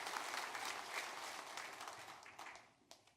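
Church congregation applauding together during a Sunday service, a dense wash of clapping that holds steady then thins out toward the end, with a few last isolated claps.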